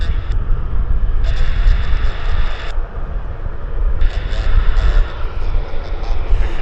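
Airliner taxiing onto the runway at Vancouver Airport, a steady low engine rumble and broadband roar heard from a distance, with hissing high-pitched whine that switches on and off throughout.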